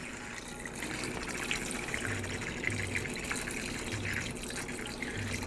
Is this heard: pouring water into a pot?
yes